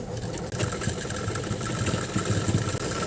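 A sewing machine stitches a drawstring tie onto the neckline of a kurta, its motor whirring in a fast, steady run with two brief pauses, close and continuous.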